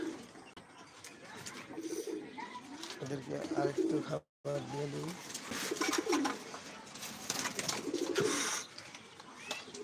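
Pigeons let out in a village on an afternoon coo repeatedly and softly nearby, their rolling calls running under a voice as he talks.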